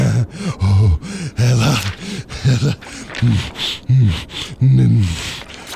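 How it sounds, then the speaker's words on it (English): A man breathes heavily on a front porch, loud rhythmic gasping inhales and exhales in quick succession, close up, with a few groaning, voice-like breaths mixed in. "Why are you breathing heavily on my front porch?"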